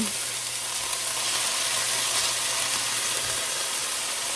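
Onion frying in a pan, a steady close hiss and crackle of sizzling oil that holds at an even level throughout, with faint stirring from a spatula.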